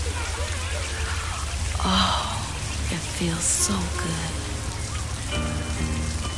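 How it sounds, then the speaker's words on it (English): Steady rain hisses as a sound effect throughout a 1972 soul song, with soft patter under music and a woman's spoken, breathy voice. "Everyone's trying to get out of the rain."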